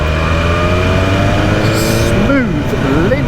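A BMW S1000RR sport bike's engine pulls under opened throttle in sixth gear, a steady loud drone with rising harmonics, heard close over wind rush.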